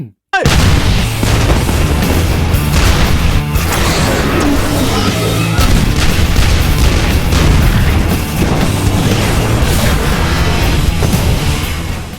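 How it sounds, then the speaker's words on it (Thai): A huge, sustained explosive roar of an alien mothership blowing up in the film Battleship, with booming crashes and rumbling debris, loud and dense throughout, layered with dramatic noise. "ญาณแม่เอเลียนมันระเบิด"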